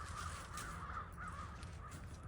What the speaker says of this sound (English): I don't know why I like the crow so much.